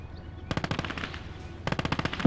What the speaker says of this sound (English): Sounds like an MG34.